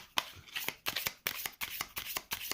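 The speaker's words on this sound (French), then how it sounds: "Et je les mélange dans le deck d'action, au hasard." Playing cards from The 7th Continent board game shuffled by hand, about eight crisp riffle bursts in a steady rhythm, close and clear with no talk.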